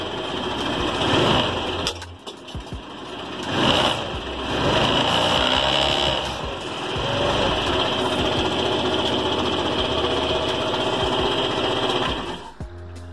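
A scooter engine, under home repair, idles steadily after starting, with a buzzy high-pitched putter that runs continuously and close, with a few uneven revs early on.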